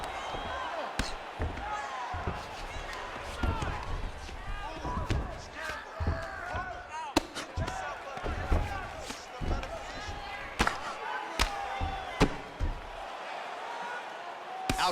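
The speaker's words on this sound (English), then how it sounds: "Outstanding ground and pound here" Ground-and-pound punches land in a UFC 4 fight between Bruce Lee and Corey Anderson, a run of sharp, close thuds at an irregular rhythm under steady commentary and crowd noise.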